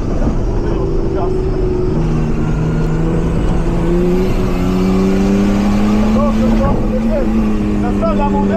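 Off-road racing car at a Serbian Trophy event, its engine roaring loud and close and climbing in pitch as it accelerates, with heavy continuous rumble throughout.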